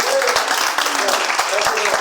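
Audience applause at a book launch for Practical Skills by Ogweno Stephen, a steady dense patter of clapping filling the room, with faint voices and cheers mixed in.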